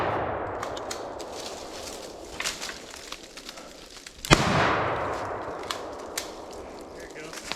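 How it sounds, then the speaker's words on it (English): A single sharp gunshot cracks out mid-clip during a squirrel hunt on public land, standing out against a rustling outdoor background with brief scattered clicks and faint voices. "I just shot him in the back leg."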